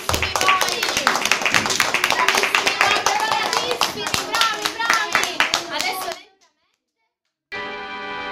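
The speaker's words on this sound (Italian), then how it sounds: "E facciamo un applauso" Schoolchildren in a classroom science workshop break into lively clapping, with sharp individual claps and some children's voices mixed in. It stops abruptly after about six seconds, then a brief stretch of silence gives way to other sound.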